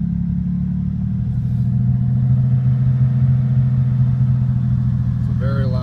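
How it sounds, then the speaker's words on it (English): A loud Oldsmobile Cutlass Ciera engine with no exhaust system idles close by with a rough, throbbing low rumble that stays constant throughout; a brief voice-like sound appears at the end. "It's so very loud. I haven't put an exhaust system on the vehicle yet."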